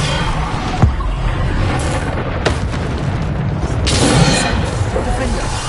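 Bombarda blasting spell explosions in a Harry Potter video game, several loud booming blasts and sharp cracks over a few seconds, mixed with game noise and voices.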